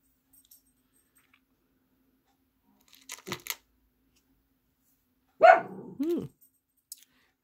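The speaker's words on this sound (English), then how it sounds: "I know what she's barking at now" A dog barks at a fire whistle in short bursts against a quiet background: a pair of sharp barks, a pause, then a louder, longer bark followed by a faint yip.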